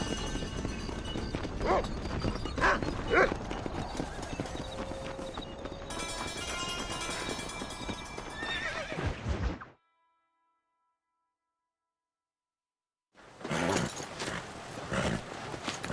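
Horse hooves clip-clop and gallop in the Red Dead Redemption video game, a busy run of thudding hoofbeats, some swishing movement and the odd neigh, cut off by a few seconds of silence before the hoofbeats return.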